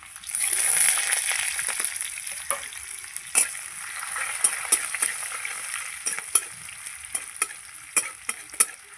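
Chopped ginger and garlic frying with onion in a hot pan, a steady sizzle broken by frequent stirring scrapes and clicks, close and continuous with no voices.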